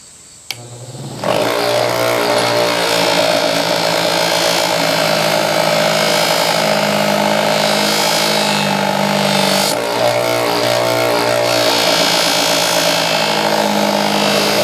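A bench grinder grinds a steel belt axe head, cleaning it up before heat treatment, with a loud, steady high-pitched whine and rasp that starts abruptly and runs continuously with slight surges.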